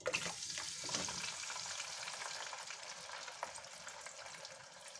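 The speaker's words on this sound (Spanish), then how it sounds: "Y las vamos a echar ahí en el aceite, que ya la tengo ya caliente." Potatoes sizzle and crackle steadily in hot oil for Canary Islands lentil sandwiches, a soft continuous frying hiss with scattered pops and no talking.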